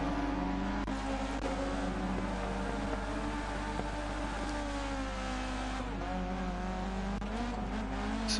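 A rally car in Dirt Rally 2.0, an S1600-class rallycross race in Germany, drones with a steady engine note that rises and falls through gear changes, with faint tire noise and no talk.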